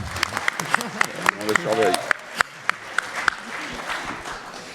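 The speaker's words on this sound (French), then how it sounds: "on l'applaudit." A classroom of students applauds their teacher, scattered sharp claps from a small group over a voice speaking, moderately loud and close, tapering off toward the end.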